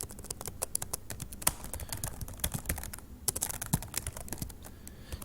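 Fingers typing code on a computer keyboard, a steady close clatter of quick keystrokes with brief irregular pauses, fairly quiet.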